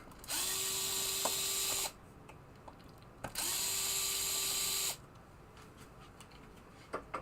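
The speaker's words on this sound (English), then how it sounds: "There's going to be 2 screws in each one that hold it down. So first we will take those screws out." A power screwdriver runs in two whirring bursts of about a second and a half each, backing screws out of Gottlieb pinball pop bumpers, with faint clicks between and after the bursts.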